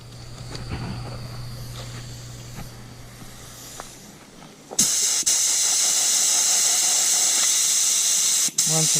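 A DeVilbiss paint spray gun blasts gun cleaner fluid in a loud, steady hiss that starts abruptly partway through and continues with one brief break, preceded by quieter background rumble and faint movement.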